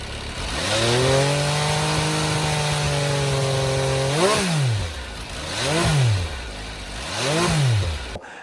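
A 2021 MV Agusta Superveloce motorcycle engine holds a loud, steady drone, then swings through three rising and falling revs or passes, strong and close, with no voices.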